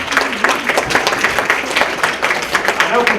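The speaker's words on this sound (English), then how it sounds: "Give yourself a round of applause." Audience members at a talk give themselves a round of applause, steady moderately loud clapping from a room of people lasting about three seconds, with a voice faintly under it.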